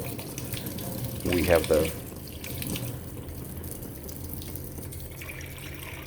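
Water runs from the cold side of a tap fed by a recirculating plumbing system. The splash rises briefly, then settles into a soft, steady flow, with a person speaking faintly over it.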